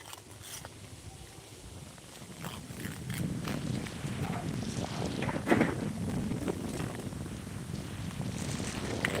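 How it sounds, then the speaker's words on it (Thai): Strong wind gusting across an open hillside where a bird-shaped kite is being tested, a steady roaring rush with buffeting against the microphone that swells louder partway through, no talking. "โอ้ลมแบบโหดๆเลยครับ"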